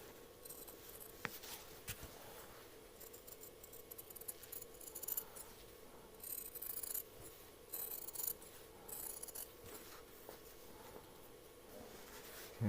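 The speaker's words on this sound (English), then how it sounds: "you want to trim that seam allowance to about 3 millimeters all the way around" Fabric scissors trim the seam allowance around a dress collar in a quiet room, giving a series of faint, irregular snips and blade clicks with pauses between cuts.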